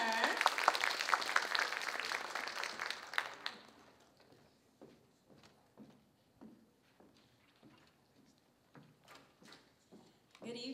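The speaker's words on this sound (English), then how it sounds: "let's give up a round of applause for her" Audience applause at an evening Black History celebration, loud and dense for about three seconds, then quickly fading to scattered claps and small knocks through the rest.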